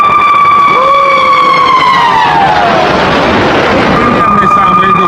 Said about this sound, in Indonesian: Suara khas lolongan dari Su-57 Velon datang dari mesin turbo canggih dan aliran udara supersonik di nozzle-nya.